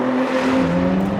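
A Ford GT supercar in track mode drives at Laguna Seca, its engine a loud, steady tonal roar heard close up for a brief moment with no talking.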